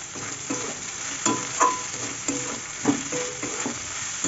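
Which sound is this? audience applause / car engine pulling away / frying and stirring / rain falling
frying and stirring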